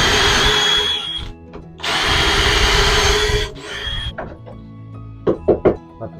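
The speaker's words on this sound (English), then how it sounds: "Now we need to do pocket hole screws again." A power drill drives pocket hole screws into a wooden planter box in two loud, sustained whirring bursts, followed by clunks and knocks of wood being handled.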